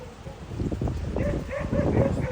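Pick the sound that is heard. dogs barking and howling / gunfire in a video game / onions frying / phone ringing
dogs barking and howling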